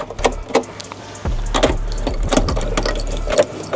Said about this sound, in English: screw these back on whilst holding the top of the light as well